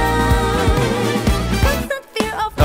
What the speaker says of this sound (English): We recorded this like a few semitones higher than the original track and then pitch shifted it down again